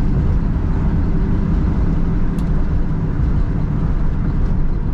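A 1968 Chevrolet Camaro cruising over bridge decks, heard from inside as a steady, loud low-frequency road and engine rumble with no break and no talking.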